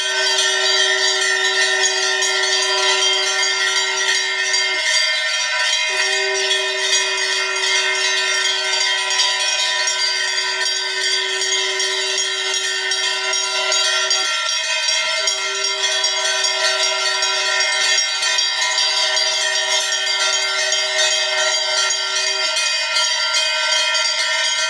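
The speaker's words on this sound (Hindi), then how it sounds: "इतने सुंदर तरीके से मंदिर में घंटियाँ लगाई हुई थी" Bells ring at the Hindu Panar temple of Golu Devta, a sustained metallic tone that hums on continuously with several long, clear pealing stretches broken by brief gaps.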